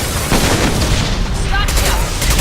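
Gunfire in a Mass Effect 2 firefight, dense and continuous, with booming low rumble and crackling bursts filling the whole stretch at close range.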